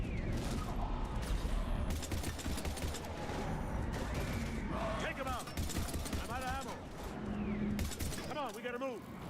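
Gunfire in Mass Effect 3 against Husks: dense, continuous shooting and battle clatter with shouted voices and screeching creature cries layered over it.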